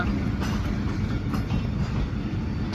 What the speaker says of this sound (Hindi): एक्सप्रेस जो गाड़ी है वो पाकपतन पहुंच गई है और ये जा रही है कराची की तरफ